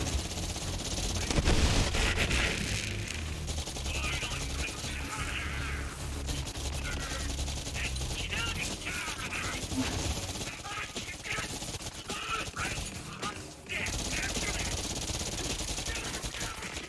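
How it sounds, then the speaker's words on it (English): Rapid automatic gunfire in Borderlands 3, fired nonstop by a Moze build, with dense continuous bursts layered over game music and explosions throughout. "you're just firing a million bullets"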